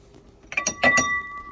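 A glass is lifted from among stacked dishes in a cabinet of an 1882 house in Massillon, Ohio, producing several bright clinks and a lingering ring, close and clear with no talking.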